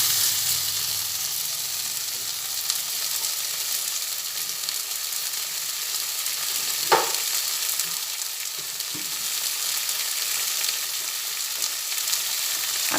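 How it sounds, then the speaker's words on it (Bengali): Masala sautéing over a lowered gas flame for a lentil-and-egg fritter curry, with a continuous close sizzle, occasional spoon scrapes and stirs, and no talking. "এই সময় গ্যাসের ফ্লেমটা একটু কমিয়ে দিয়ে তিন চার মিনিট মতো কষিয়ে নেব"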